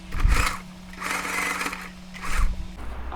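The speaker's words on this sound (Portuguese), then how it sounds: "já vou aproveitar e passar o overlock nas laterais" An overlock sewing machine runs in bursts while finishing the side seams of tailored shorts, a steady mechanical whir with a low hum rising and falling over a few seconds.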